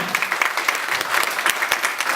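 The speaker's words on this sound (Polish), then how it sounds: "brawo najgorętsze należą się wszystkim sponsorom" An audience at a makeover event in the Hotel Korona in Lublin claps warmly for the sponsors, a dense, continuous patter of many hands at close range without voices.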